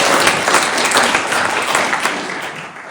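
Audience applause at a public meeting on Alberta sovereignty in Lethbridge, a dense, loud wash of many clapping hands that holds steady and fades slightly toward the end.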